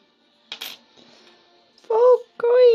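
Coins from a Coinworld UK delivery clink and drop in a brief metallic burst near the start, followed by short tonal vocal sounds, close and fairly loud.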